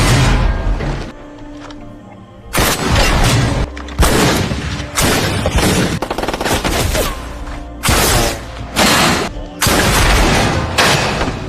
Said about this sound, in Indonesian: Di sana mereka tanpa kompromi langsung menembaki baja yang melindungi tubuh Cabi